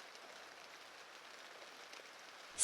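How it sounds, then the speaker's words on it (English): Steady rain patters on a window in a quiet room, a soft, even, unbroken hiss that stays faint throughout. "Steady rain."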